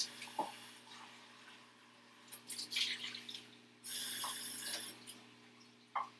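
Running tap water splashes in irregular spurts over a steady low hum, with brief clinks and drips as dishes are rinsed nearby in a home kitchen.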